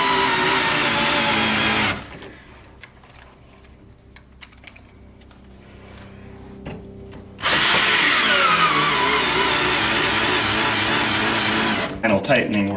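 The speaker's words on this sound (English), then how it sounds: "come back with a ratchet and finish them off" A ratchet driving installation screws into a wall plate, with close mechanical clicking that stops, is followed by a quieter stretch, then starts again.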